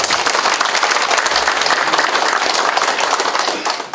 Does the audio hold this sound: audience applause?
yes